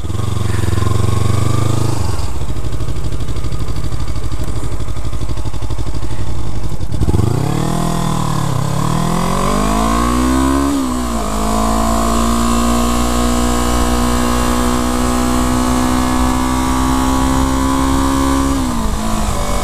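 Modified 2015 Yamaha R3 parallel-twin engine heard from the rider's position, loud and continuous, dropping to idle, then revving up through rising gear pulls and settling into a steady cruising drone.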